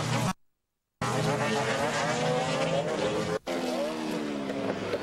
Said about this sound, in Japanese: シューマッハはコントロールを失いスピン